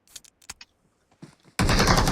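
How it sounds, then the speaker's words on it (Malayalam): Video game gunfire: a sudden sustained burst of automatic shots, loud and dense, following a few sparse clicks and taps. "ഫയർ ചെയ്തല്ലോ."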